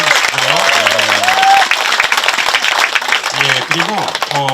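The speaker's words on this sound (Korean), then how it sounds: "우리 이준환 신부님 열심히 또 한 달간 싸우시라고 박수 한번 쳐주시고요" Congregation applauding for a priest during a Monday Mass, loud sustained clapping with a voice speaking over it at the start and again near the end.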